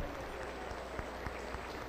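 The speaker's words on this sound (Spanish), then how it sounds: "Aplauso para el Señor." A church congregation applauds continuously during a worship service, a steady wash of many hands clapping with faint crowd murmur.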